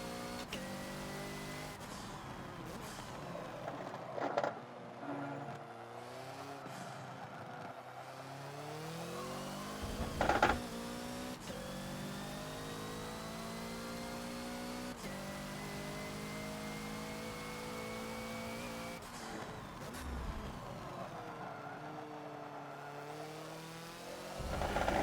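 Hoonigan Ford Focus race car lapping the Bugatti Circuit in Forza, its engine revving up and down steadily through gear changes with brief tire squeals on corners, loud and continuous throughout.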